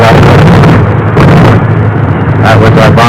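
A flak burst near a B-29 bomber on a WWII combat mission over Japan, heard as heavy booming rumble inside a loud, droning cockpit, with muffled bursts of noise rising above the constant engine roar and a voice speaking over it.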